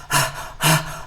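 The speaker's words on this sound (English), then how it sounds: "releasing the breath through your mouth" Two breaths pushed out through an open mouth during a guided meditation, each a soft breathy whoosh lasting about a third of a second, close and clear with a quiet pause between them.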